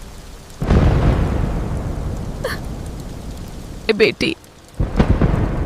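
Heavy rain pours steadily through a night storm, with a deep rumble of thunder swelling beneath it and a few brief voices breaking in near the end.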